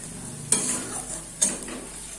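Garlic and ginger paste fries in oil with a soft sizzle while two sharp stirring scrapes of a utensil cut in about a second apart.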